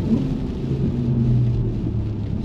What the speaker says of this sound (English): Storming rain, I don't know